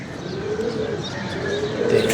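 Pigeons cooing close by, soft low rolling coos repeating over a faint outdoor background.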